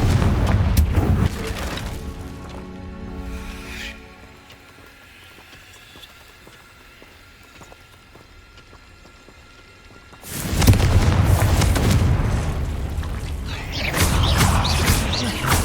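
Confringo blasting spells burst in Hogwarts Legacy gameplay. Loud, rumbling explosions fill the opening seconds, quieter game ambience follows, and another heavy barrage of blasts and debris comes in the second half.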